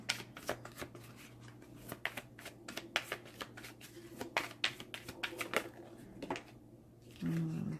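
Tarot cards being shuffled in quick repeated riffles, crisp papery bursts in an irregular rhythm over a low steady hum, with a brief thump near the end.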